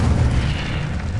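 Incendio fire spell going off in Hogwarts Legacy, a single deep booming blast that stays loud and rumbling for a moment without fading, no voices.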